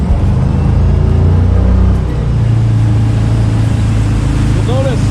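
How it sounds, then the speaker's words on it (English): A motorboat towing a foil surfer has its throttle hammered, and the engine roars with a loud, steady, close low rumble that swells slightly midway, with wind and water noise throughout. "You'll notice I just hammered the throttle."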